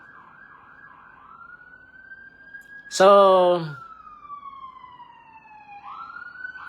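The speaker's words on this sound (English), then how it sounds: "and there goes the siren, the familiar siren." A police siren passes outside in Oakland, its long wail rising and falling through the scene; midway a loud, brief horn blast cuts in, and someone says a single word.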